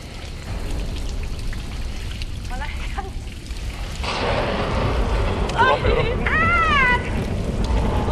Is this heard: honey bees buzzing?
no